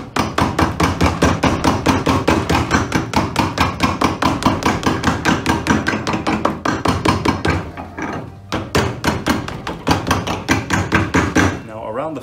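Steady, rapid hammer blows on a leather sole of a George Cleverley shoe at a repair bench, loud and close, with a brief pause near the end before the tapping resumes.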